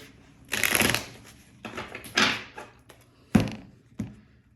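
Tarot cards are shuffled in a few separate bursts of riffling and soft slaps, with quiet pauses between them, close and clear.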